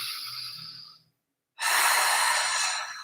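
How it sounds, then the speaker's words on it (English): A person takes a long, deep breath in, then a short pause of silence, followed by another strong, airy breath, close and clearly audible with no talking. "Can we just take a deep breath into that"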